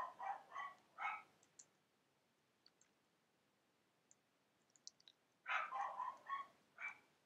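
Pet dog Eevee barking from a distance, a cluster of three quick barks, a pause with faint clicks, then another burst of several barks, all fairly faint and muffled.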